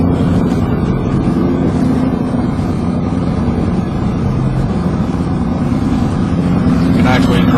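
Loud, steady roar of a motorboat engine as the boat drives on water, with wind buffeting the microphone, continuous throughout with no pauses.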